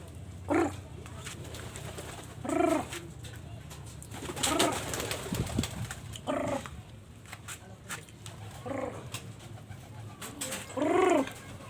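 Pigeons being fed coo in repeated, soft rolling calls at close range, several separate bursts spaced a second or two apart, over a low outdoor rumble with faint rustling and wing flutter.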